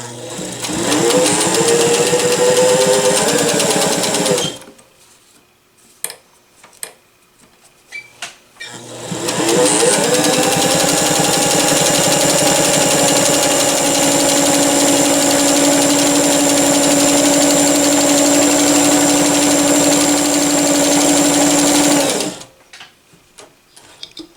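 A vintage Singer Fashion Mate 257 sewing machine runs a straight stitch, its loud steady mechanical whir close by in two long bursts separated by a quiet pause with a few small clicks.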